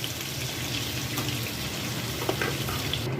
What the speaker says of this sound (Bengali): এবার যে মশলাটা ব্লেন্ড করে রেখেছিলাম সেটা অ্যাড করে দিচ্ছি।